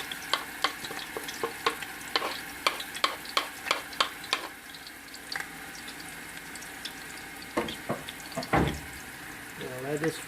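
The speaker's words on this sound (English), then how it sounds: "We're gonna go ahead and fry this up just as we cook in a regular curry." Onion, garlic and pepper fry in a pan as the base for a paneer curry, with a soft sizzle beneath a series of sharp, rhythmic spoon taps and stirs that pause and then return.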